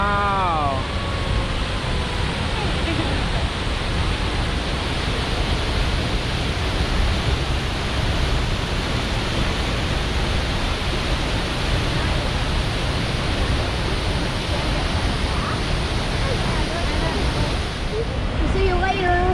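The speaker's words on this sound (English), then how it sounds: "See you later, waterfall." Steady roar of a waterfall in the Columbia River Gorge in winter, a continuous broadband rush that stays loud and close throughout, with a few faint voices and a brief whistle-like tone near the start.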